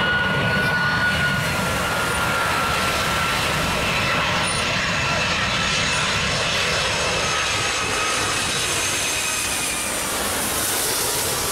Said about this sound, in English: There's three big planes landing.